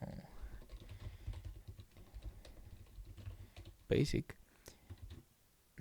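Typing code on a computer keyboard: a run of soft, rapid key clicks under a man's speech, with a louder burst of clacks near the end before it falls quiet.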